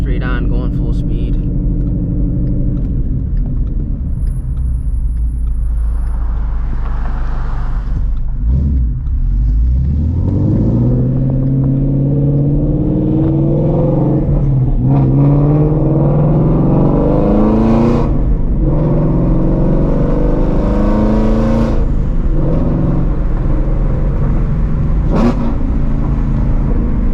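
Ford Shelby GT350 with long tube headers accelerating hard from the driver's seat, a loud deep engine roar climbing in pitch through repeated gear pulls with brief shift breaks, steady road rumble underneath.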